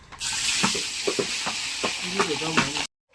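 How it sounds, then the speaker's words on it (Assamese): Spice paste frying in hot oil, a loud steady sizzle with a few stirring scrapes, cutting off abruptly near the end. "গৰম এতিয়া পেষ্টটো দি লওঁ তেলত"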